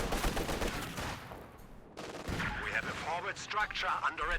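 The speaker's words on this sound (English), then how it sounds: "Sounds like a heavy mortar." Heavy mortar fire in a Company of Heroes 2 match, with booming launches and explosions amid ongoing battle noise, and a commentator talking over the fighting.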